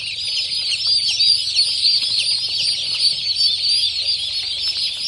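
Dense, continuous high-pitched peeping from a crowd of turkey and Kadaknath chicks on a poultry farm, loud and close with no voices.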